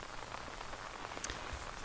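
Soft, steady rain patters on a surface during a storm, a faint continuous hiss with a few scattered drops and no talking.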